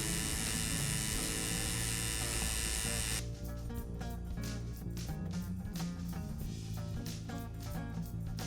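A tattoo machine with a 3.5 mm stroke buzzes continuously in a steady, close, high-pitched electric hum while black ink goes into skin, with a dense rhythmic rattle running throughout.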